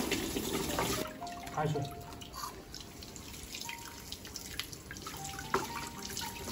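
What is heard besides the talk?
tap water rinsing a plucked chicken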